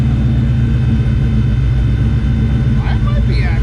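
Car 8.8 rear axle spinning in first gear, a loud steady low rumbling drone with a faint whine, while someone speaks over it near the end.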